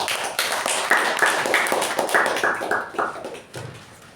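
Scattered applause from a small Toastmasters meeting audience, a modest patter of individual claps that rises, holds a few seconds and thins out near the end.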